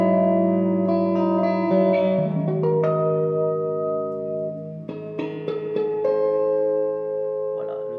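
Sustained electric guitar chords and single notes through a Blackstar HT5R Mk1 tube combo amp with gain at three-quarters and reverb ring out with a thick, reverberant tone, blending into each other as the strings sustain.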